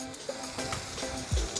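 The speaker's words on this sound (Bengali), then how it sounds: "ভালো করে এটা কষিয়ে নেব।" Ginger and green chili paste fries in a pan for chicken curry with potatoes, giving a steady low sizzle with a few soft stirring scrapes and a louder low thump near the end.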